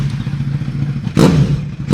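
A motorcycle engine idles with a throbbing low note, then two sharp, loud revs from an aftermarket SC Project exhaust crack out, close by.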